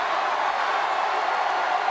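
A wrestling arena crowd applauds and murmurs steadily for Chavo Guerrero during a Raw match, a dense, continuous wash of clapping and cheering heard at a distance without a break.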